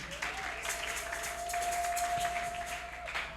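Applause rises from a congregation during a French-language church service, a steady wash of clapping throughout with a sustained tone running beneath it.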